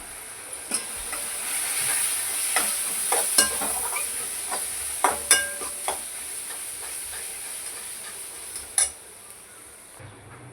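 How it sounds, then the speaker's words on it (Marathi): Coriander-cumin powder, Kashmiri chilli powder and turmeric frying in a pan, giving a steady sizzle broken by several sharp scrapes and clinks of a spatula, close and fairly loud. "आपण चांगली मस्त भाजून घेऊया ते मसाले"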